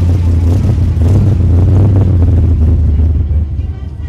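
A Toyota Supra at a car show gives a loud, close engine rumble that swells and holds, then eases off near the end, with crowd noise around it.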